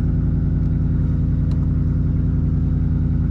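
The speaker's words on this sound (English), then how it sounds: "Man, she sounds good with that Roush exhaust." A Ford Mustang GT with a 5.0 engine and Roush exhaust idles steadily and loud nearby, giving a deep continuous rumble with no voices.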